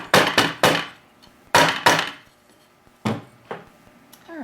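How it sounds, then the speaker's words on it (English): Hammer blows on an enameled metal piece, sharp ringing strikes in small clusters of two or three with short pauses between, close and loud. "So I'm just going to kind of hammer that out just a little bit,"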